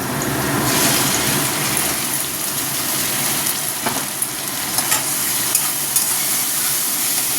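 Onions browned in a pan with ground spice paste, tomato, green chilli and poppy seeds being added and stirred, giving a steady close sizzle and frying hiss with occasional scraping stirs throughout.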